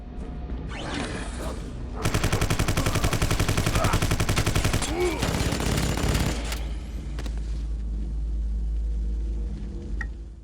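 Sustained rapid gunfire in the video game Vivisector, a dense machine-gun burst lasting several seconds over a deep rumbling game soundtrack, loud and continuous before trailing off into ambient background.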